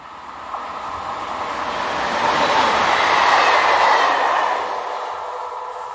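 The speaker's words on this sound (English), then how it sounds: "Local services see Class Z11500 EMUs in operation." A Class Z11500 electric multiple-unit train runs by on a French line, its rushing, rumbling rolling noise swelling to a peak midway and then easing off again.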